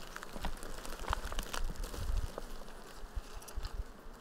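Honeybees buzzing at one of ten to fifteen beehives in an apiary, a steady insect hum with faint crinkling of a plastic bag nearby, no voices.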